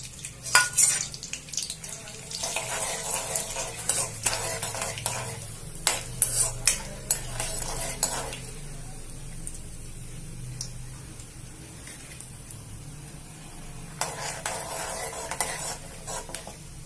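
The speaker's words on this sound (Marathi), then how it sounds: "हे शेंगदाणे हे बघा शेंगदाणे चांगले तळून घेऊ तेलात" Peanuts fry in hot oil with cumin for a Khandeshi bharit, crackling steadily under repeated scraping and clattering stirs of a spoon against the pan, in bursts over a continuous close sizzle with no voices.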